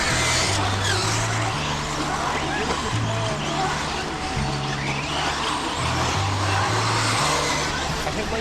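Electric RC buggies race around a track, a dense high buzz and whine with shifting motor pitch, heard under a race announcer's amplified voice and background chatter.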